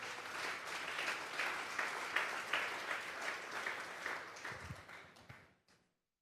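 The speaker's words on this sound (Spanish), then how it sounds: "Vamos a darle un fuerte aplauso al Señor esta tarde." A church congregation gives a strong round of applause during an evening worship service, dense steady clapping that tapers off and fades to silence at the end.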